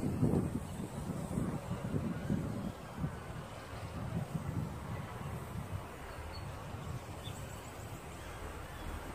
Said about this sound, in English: it's hard flying in the wind